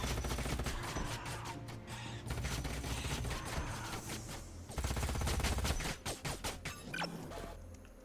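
Gunfire in the sci-fi strategy game Age of Wonders: Planetfall, a dense fusillade of rapid shots and bursts rattling for several seconds, loud and crowded, tailing off into scattered cracks near the end.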